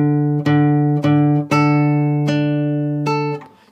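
Guitar picks a few notes from a video game main theme, about six clean plucked notes in a slow, uneven rhythm, each ringing before the next, close and alone.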